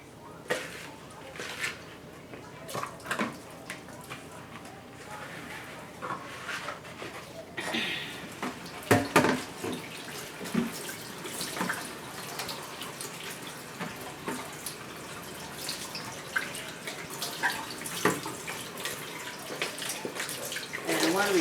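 A clean pan washed by hand under running tap water, with splashing and occasional clanks and knocks, while a person talks intermittently throughout.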